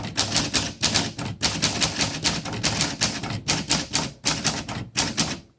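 Rapid, continuous typing on a 1940 Corona Standard manual typewriter, loud and close, with dense clacking keystrokes in bursts separated by brief pauses, no voices.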